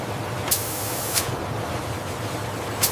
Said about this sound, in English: Precision jets of compressed air swiftly remove any imperfect berries.